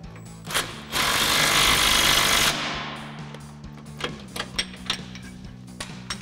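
An impact wrench with a 17mm socket drives a nut tight on a Toyota Tacoma suspension lift install, a loud burst of about a second and a half followed by clicks and knocks of the tool being handled.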